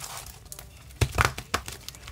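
Tarot cards are shuffled by hand in a run of crisp papery flicks and rustles, with a few louder slaps in the middle and softer riffles around them, close and alone.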